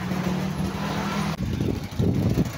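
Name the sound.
tricycle carrying lettuce to market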